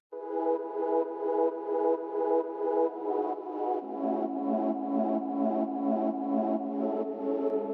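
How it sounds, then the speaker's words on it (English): A cut-up synth pad sample drenched in reverb pulses in soft, even swells about twice per second, a warm sustained chord that shifts lower partway through, alone and steady. "Next, I cut up a pad sample and put lots of reverb on it,"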